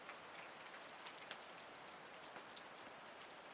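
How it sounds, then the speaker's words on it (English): Steady heavy rain patters on a surface at a campsite, a soft even hiss with scattered drop ticks throughout. "all the predictions are for heavy rain until midnight"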